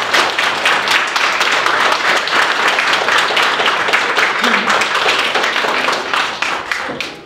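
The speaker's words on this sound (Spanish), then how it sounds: "Unos aplausos a Hernán el día de hoy." Applause at a church Mass during a quinceañera celebration, a sustained, dense wash of many hands clapping steadily for about seven seconds before tapering off at the end.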